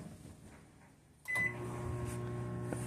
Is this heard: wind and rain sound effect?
no